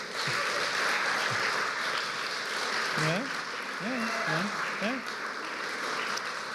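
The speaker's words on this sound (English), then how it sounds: "Round of applause for our 3 readers and 2 accompanists." An audience applauds three poetry readers and two accompanists at an Ottawa poetry festival, sustained clapping over which a voice speaks briefly midway.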